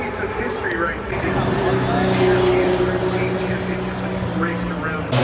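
A rotary-powered Ford race car, a Camel GTP-era prototype raced around 1991, passes along the shoreline at the 2022 Long Beach Grand Prix, its engine rising and falling while a commentator talks over it.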